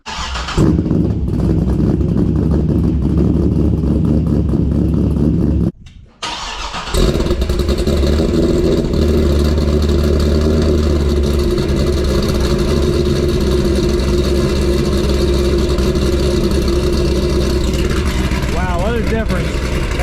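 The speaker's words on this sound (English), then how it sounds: "we'll get a good sound clip with the Corsa mufflers and the Texas Speed X pipe" A C6 Corvette engine rumbles loud and deep through Corsa mufflers and a Texas Speed X-pipe without catalytic converters, pausing briefly before settling into a steady throaty idle.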